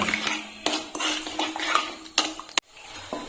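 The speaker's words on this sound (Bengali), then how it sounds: "আমি এখন সবকিছু ভালো করে মিশিয়ে নেব" A spoon clinks and scrapes against a pan while milk, rice and sugar are stirred together, with several sharp metallic knocks and one loud clack near the end.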